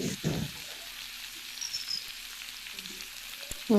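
Soybean chunks frying with spices in a pan, a soft steady sizzle running under the whole stretch with a few faint scraping stirs and a louder clatter at the very end.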